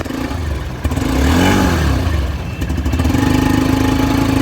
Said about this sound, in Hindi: बाइक हमने स्टार्ट कर दी है